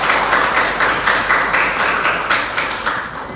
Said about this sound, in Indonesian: tepuk tangan untuk Hafsa